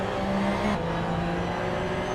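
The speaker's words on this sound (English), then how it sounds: "Bot James is driving a 2017 Porsche 911" Engine of a 2017 Porsche 911 GT3 Cup in a racing game, a steady, loud high-revving drone with a brief pitch shift as it changes gear, close and continuous.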